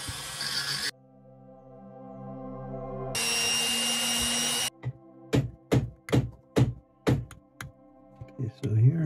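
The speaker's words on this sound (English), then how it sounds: "I'm gonna use this tool to scrape that away, smooth it out, and make ready for the details" Hand tool scraping the natural surface texture from a whale tooth during scrimshaw carving of a puffin, heard as several short, rasping strokes in a steady rhythm near the end, after stretches of broadband noise.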